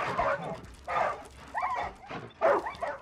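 Dogs in the video game Far Cry 5 whimpering, yipping and giving short barks, with several distinct bursts spaced across a few seconds, fairly close and moderately loud.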